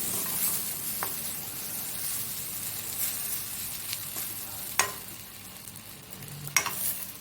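Chicken frying in a pan for a Christmas-special chicken fry, giving a steady soft sizzle with light stirring scrapes and a couple of sharper clicks, no voices.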